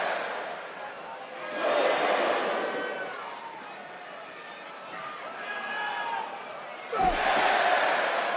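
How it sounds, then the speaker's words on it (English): A Madison Square Garden crowd claps and roars during a Seth Rollins vs CM Punk steel cage match on Raw, the noise swelling in waves from a steady hum, while a commentator talks over it throughout. "Couple clap bombs in Madison Square Garden."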